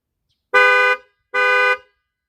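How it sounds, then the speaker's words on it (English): A 2017 Toyota Camry LE's panic-mode alarm blares twice in quick succession, two loud, even honks about a second apart with silence around them. "And the alarm, or not alarm, but like a panic mode."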